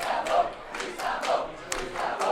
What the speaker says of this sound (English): so you can hear the guys cheering